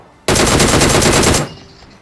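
A fast, loud burst of automatic gunfire during a fight on a hill in a battle royale shooter, a single rapid stream of shots lasting about a second before cutting off into quiet background.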